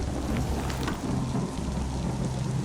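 A video game storm on a road toward Arkham in a Lovecraft horror game brings heavy, steady rainfall with deep rolling thunder beneath it, loud and continuous without any voices.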